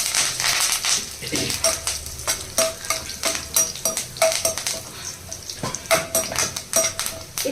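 Spices and curry leaves frying in a pan, a continuous sizzle under repeated scraping and stirring strokes of a utensil against the metal, close and fairly loud.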